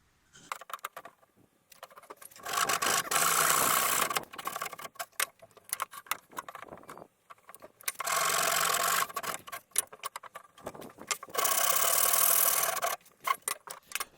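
Hand saw cutting through scrap wood for a cross halving joint, three loud bursts of rapid rasping strokes separated by quieter pauses with scattered knocks and handling sounds, no talking.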